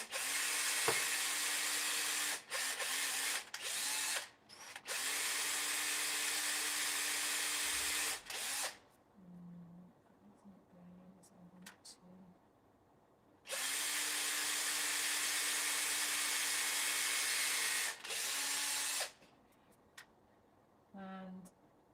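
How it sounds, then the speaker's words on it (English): A small, light hand drill with a wood bit whirs loudly through wood in two long bursts, separated by quieter handling noises and brief murmuring. "this is a wood drill bit"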